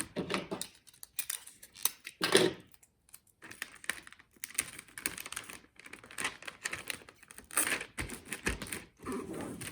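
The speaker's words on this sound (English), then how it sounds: "Tape that down really good." Gift wrapping paper taped down tightly on a package: a run of brisk crackling tears and stretches of tape with papery rustles, two louder bursts standing out among scattered handling noises, no talk.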